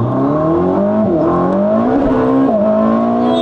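A tuned Ferrari SF90 making 1200 hp pulls its first hard acceleration: a loud engine note climbs steadily in pitch, dips briefly at two quick gear changes, then climbs again.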